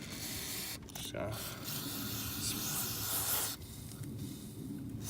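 A can of CRC throttle body and air intake cleaner hisses in long continuous sprays onto a car's throttle body, with brief gaps and faint voices in the background.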